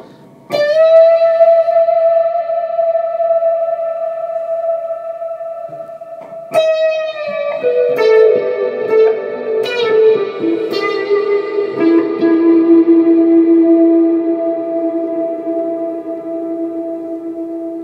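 Clean electric guitar notes through a Uni-Vibe pedal and a Black Country Customs Secret Path reverb ring out and sustain with a wavering, swirling modulation and a lush reverb tail, played slowly and alone.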